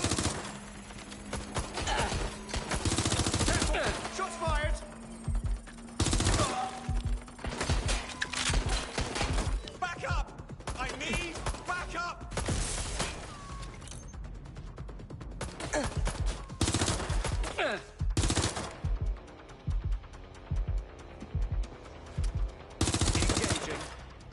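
Rapid automatic gunfire in the video game Watch Dogs Legion, loud bursts of shots repeating throughout with brief pauses between volleys, close and dominant.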